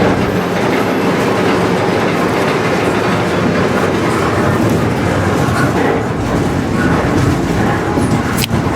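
A train runs along the BNSF Transcon railway in winter, its close, steady rumble and rhythmic clickety-clack of wheels on rail continuing loudly throughout, with a brief high squeal near the end.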